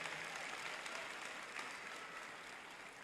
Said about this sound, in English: Can we hear a little applause?